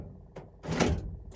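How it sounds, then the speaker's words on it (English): The power door locks on a 2003 Mercedes Sprinter actuate during a diagnostic test, making a short mechanical clunk followed by a louder, longer whirring thud close by. "Actuation test. Okay, let's see, lock doors."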